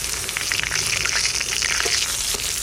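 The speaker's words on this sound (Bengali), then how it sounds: "এর মধ্যে আরেকটু তেল দিয়ে দিচ্ছি একটা এলাচ একটা লবঙ্গ একটা শুকনো লঙ্কা" Whole cardamom, clove and dried red chili sizzle in hot oil for a Bengali catla fish curry with cauliflower, a steady, loud frying crackle that runs unbroken from start to end.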